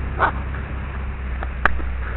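A dog gives a couple of short, soft barks and yips, fairly close, with a quiet background hum.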